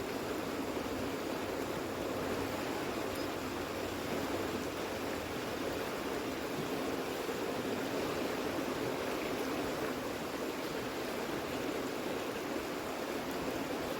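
A river flows in a steady, full broadband rush that continues unchanged throughout, with no other sounds rising above it.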